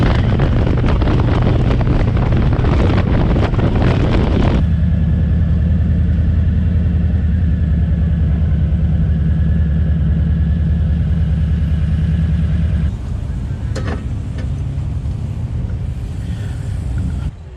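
A motorcycle ridden on a road, loud steady engine drone with heavy wind rush, the tone dropping to a lower, smoother hum partway through as the rider shifts or slows.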